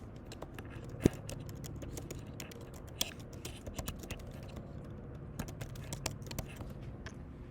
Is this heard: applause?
no